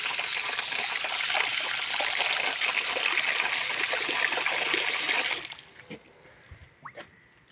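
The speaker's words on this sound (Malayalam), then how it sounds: "വെള്ളം ഒഴിച്ചാൽ ഒരിക്കലും വെള്ളം പോകത്തില്ല" Steady splashing of water poured onto a washing stone fills the first five seconds, then stops abruptly, leaving a few faint drips and small knocks.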